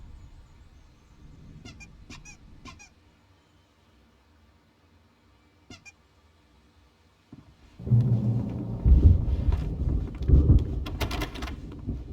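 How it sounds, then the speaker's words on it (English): In the Alan Wake video game, a few faint clicks sit in near silence before a deep thunder rumble rolls in and swells, with a rainy hiss building around it during an approaching storm. "There's a storm coming."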